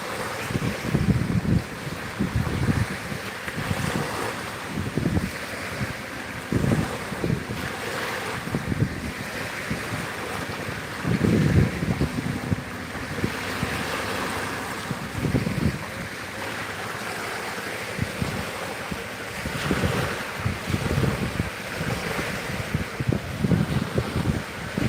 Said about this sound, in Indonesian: Jadi bisalah menikmati gemuruh ombak yang sedang menjilat-jilat pantai.